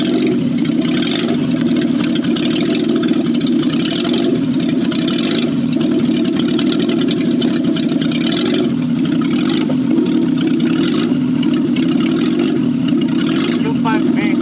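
Swapped-in M20B25 engine in a BMW E30 325i idling steadily and close, a constant mid-pitched drone with no revving, and people talking briefly over it.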